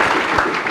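A short, loud burst of crowd applause at a Bihar police recruitment gathering, dense clapping filling the whole moment.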